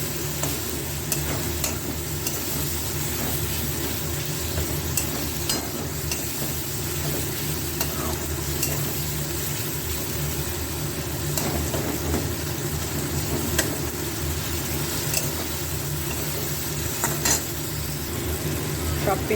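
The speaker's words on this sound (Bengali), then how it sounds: "এবার এগুলোকে ভাজবো একটু কাঁচা গন্ধটা যাওয়া পর্যন্ত" Onion, tomato and Kashmiri chilli powder fry in a pan with a steady, close sizzle and occasional stirring scrapes throughout.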